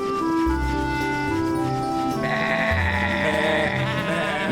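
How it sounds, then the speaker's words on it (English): Cartoon sheep bleat in a children's animated story, several wavering, nasal baa calls following one another, close and loud with overlapping tones. "Honk is teaching Woofie how to look after the sheep"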